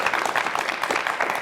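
Studio audience clapping on a Georgian book quiz show, a dense continuous patter of hands for a short burst, moderately loud and without speech.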